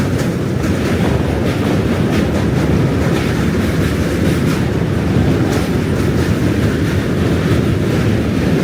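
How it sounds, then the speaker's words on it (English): A train rumbles past close by on a windy New York City street, a loud, continuous roar of wheels and rail cars with faint clacking, steady for the whole stretch. "the train's right on us"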